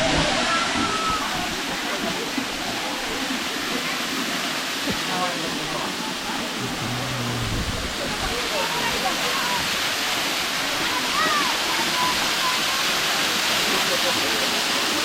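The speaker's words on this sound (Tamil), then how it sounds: "ஃப்ரெண்ட்ஸ், இங்கே பாருங்க நம்ம அருவி தெரியுது." The waterfall at Seekuparai view point in the Kolli Hills, a steady dense roar of falling water that fills the scene without break, with faint voices now and then beneath it.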